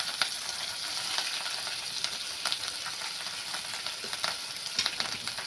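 Green coriander and chilli stirred as they fry in a pan for veg puff filling, a steady close sizzle with light scraping stir strokes throughout.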